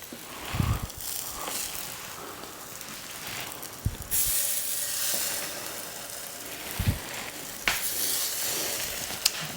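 French toast slices sizzle steadily on a hot griddle, a continuous close frying hiss with a few brief knocks and clatters, no talking.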